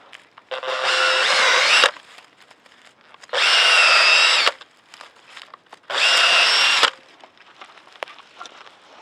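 An auger drill bit whines in three separate bursts into field soil while planting bulbs, each a couple of seconds long with short quiet gaps between, close and fairly loud.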